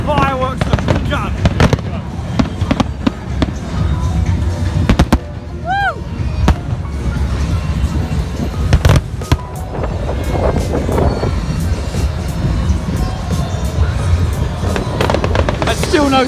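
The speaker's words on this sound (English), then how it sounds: "The fireworks have begun." Bonfire Night fireworks exploding over a crowded outdoor event at Oxford, with sharp bangs and crackles repeating throughout, a few rising whistles, and a steady crowd murmur and voices underneath.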